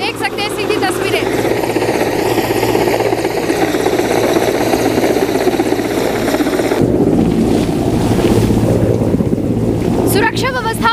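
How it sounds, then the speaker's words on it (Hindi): A helicopter comes in to land on a helipad before a waiting crowd, its loud steady rotor and engine roar filling the whole stretch with wind buffeting the microphone. "ये हेलीकॉप्टर सीधा हेलीपैड पर उतरने के लिए तैयार हो चुका है"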